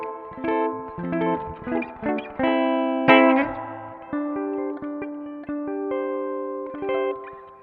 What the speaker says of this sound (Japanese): スプリングのいい音が再現されております。